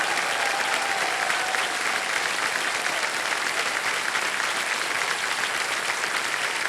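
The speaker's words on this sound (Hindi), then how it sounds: "ताली बजती रहे" A television quiz show studio audience applauds steadily, a dense, continuous wash of clapping from many hands holding at an even level throughout.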